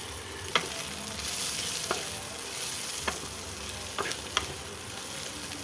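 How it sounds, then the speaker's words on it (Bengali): Chopped tomatoes sizzling in a hot pan for shahi paneer, a steady loud frying hiss with a few sharp scrapes of a spatula stirring through it. "দিয়ে দিলাম কুচিয়ে রাখা টমেটো।"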